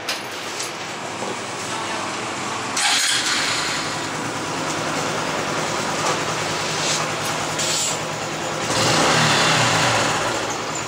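A Honda Wave motorcycle engine running close by, a steady buzzing idle with two surges where the revs climb and the engine grows louder, with no talk.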